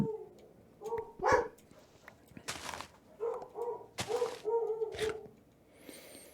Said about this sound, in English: going to listen to my dogs